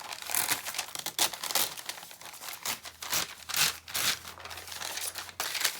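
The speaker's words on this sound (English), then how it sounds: "so you rip a couple of these off" Perforated packing tape torn off in pieces at a desk, a run of sharp crinkling rips and crumpling bursts, close and fairly loud, with no talking.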